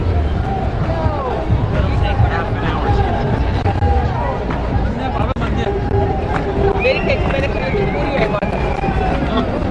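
Dense street crowd noise in Times Square, Manhattan, New York City: steady babble of many voices and footsteps all around, with nearby people talking over the constant hubbub.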